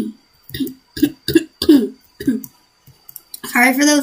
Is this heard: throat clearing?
yes